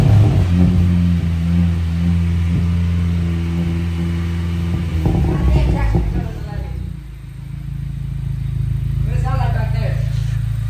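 A 2022 Honda Civic Si with an aftermarket exhaust rumbles steadily, then revs up as it accelerates, with the exhaust note rising and droning on; a voice speaks briefly over it.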